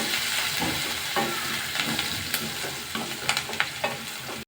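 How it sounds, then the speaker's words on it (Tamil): Onions sizzling in a pan with curry leaves and green chilli for moong dal sambar, stirred with scattered scrapes and clicks over a steady close frying hiss, no voices. "வெங்காயம் நல்லா வதங்கி வரட்டும்."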